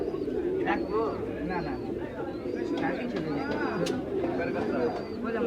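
Pigeons coo and flutter amid busy market chatter at a pigeon market in Bangladesh, with people talking nearby over the steady birdsong.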